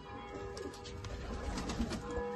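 A pet pigeon coos softly in short, throaty bursts, close by and faint, with a faint hum underneath and no one speaking.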